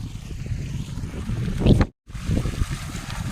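Water from a farm motor pump gushes into a field beside a well, a steady broadband rush of flowing water with a brief cutout near the end before it resumes.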